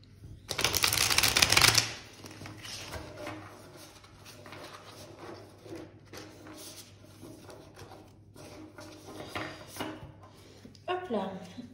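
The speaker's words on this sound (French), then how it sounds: "je prends le tarot en entier. On va bien le mélanger." A full tarot deck shuffled by hand, opening with a loud close riffle for about two seconds, then softer card slides and taps that continue under a quieter voice.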